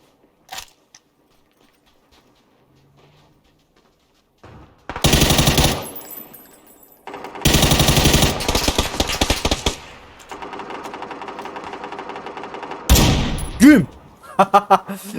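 Automatic gunfire in PUBG, played on Steam, comes in two loud sustained bursts with a third later, separated by quieter game ambience and scattered clicks.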